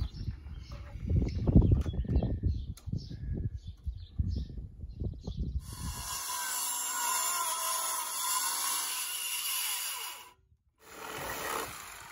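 A circular saw cutting pallet wood: scraping and knocking from handling boards gives way to a loud, steady high whine of the blade through the wood, briefly dropping out before starting up again.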